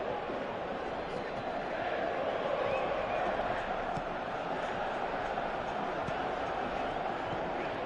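A stadium crowd in the PES 2018 football video game makes a steady, distant roar and murmur, with a voice faintly speaking over it.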